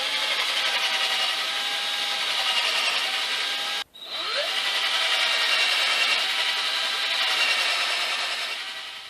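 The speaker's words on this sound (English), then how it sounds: "the center upright needs 2 holes drilled in it, one on each end" A power drill bores holes into a wooden center upright, a steady high whine over several seconds, a brief stop, then drilling again, close and loud with no voices.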